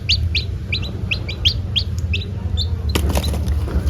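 Newly hatched KUB chicken chicks, less than a day old, chirp in a steady series of high, bright peeps close by over a low background hum, ending with a burst of handling noise.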